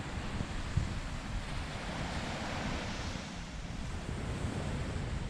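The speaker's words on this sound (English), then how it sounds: "Just the sound of the water just is absolutely just gorgeous." Ocean waves wash ashore at Fort Fisher in a constant, dense roar of surf with wind buffeting the microphone, steady and unbroken throughout.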